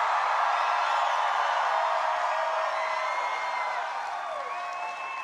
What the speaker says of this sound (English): Boy, what a crowd.